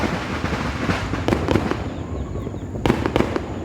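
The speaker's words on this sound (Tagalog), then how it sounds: "Fireworks, yan." Fireworks bursting outdoors during a New Year celebration, a rapid crackling barrage of pops and sharp bangs with a few louder reports, continuous and fairly close with no talk.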